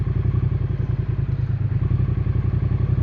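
A Triumph Modern Classics motorcycle engine idles up and revs slightly, a close, even, throbbing putter with a fast regular pulse throughout, no voices over it.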